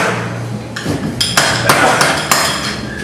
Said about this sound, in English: Take the nail, punch holes, and boom, got the grater.